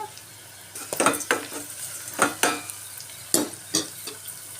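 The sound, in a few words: onions frying in oil in a pan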